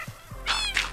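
A cat in Minecraft gives a couple of soft short chirps followed by two louder drawn-out meows, close and clear over a low steady hum.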